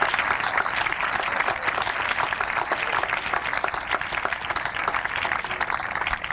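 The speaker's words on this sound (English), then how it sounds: "How about a nice round of applause for these people?" Sustained audience applause at a 1992 high school commencement at Exeter Township High School, a loud, dense, steady roar of many hands clapping in a large hall.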